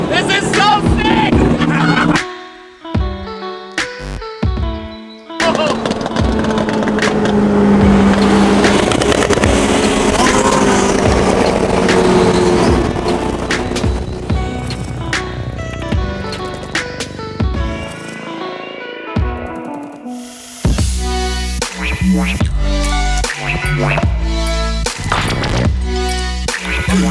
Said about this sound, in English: that was an upgraded Turbo S running on MS-109 and methanol